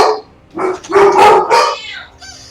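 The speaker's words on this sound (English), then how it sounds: "Even the dogs want to join in." Dogs bark loudly and close by in a quick cluster of overlapping barks and yelps, followed by a brief howl-like tail, with no one speaking over them.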